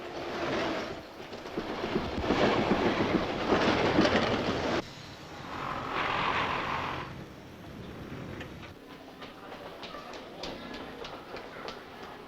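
London Underground tube train running, a steady broadband rumble and clatter of wheels on rails that swells and eases across the clip, with a quieter, more even stretch toward the end.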